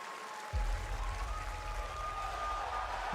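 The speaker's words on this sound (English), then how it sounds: "Listen to the crowd, oh my god, bro." A large live-event crowd bursts into loud, sustained cheering and applause at the reveal of the game Resident Evil Requiem, a dense roar that holds steady after a sudden start.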